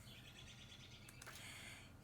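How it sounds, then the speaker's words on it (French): Large birds chatter on a rooftop, a quiet, steady stream of chirps and calls with a brief louder burst partway through, faint and alone without talk. "Des gros oiseaux sur le toit, là. Bon, ils jasent."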